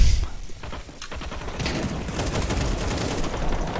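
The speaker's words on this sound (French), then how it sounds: "ça me tire dessus, ça me tire dessus, ça me tire dessus, j'aime pas ça" Rapid bursts of automatic gunfire from a Counter-Strike match crackle steadily for a few seconds, dense and continuous, with a player talking faintly underneath.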